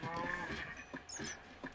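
A cow in a video game's nuclear wasteland lets out a short, fairly quiet moo, with some faint background sounds around it.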